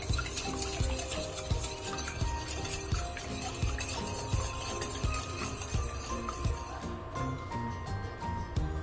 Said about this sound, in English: Whisk the eggs only a bit, not too much.